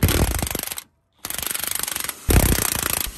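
An impact drill hammers rapidly and loudly while removing the sway bar link nut on a Scion tC, in three close bursts of rattling blows separated by brief pauses.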